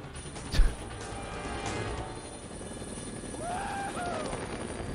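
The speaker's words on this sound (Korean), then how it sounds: "저 헬기 세대에 쫓기는 와중에" Helicopters pursuing the player in the zombie game Dead Rising, a steady rotor and engine whir filling the scene at moderate loudness, with a brief thud early on and a faint rising whine later.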